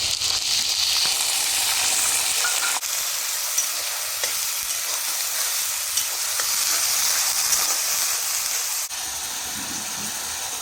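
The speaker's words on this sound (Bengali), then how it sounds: "পেঁয়াজটা ভাজা হয়ে গেছে, আমি এখন রসুন পেঁয়াজের পেস্টটা দিয়ে দিব।" Garlic and onion paste fries in a pan with a loud, steady sizzle and occasional stirring scrapes and clicks throughout.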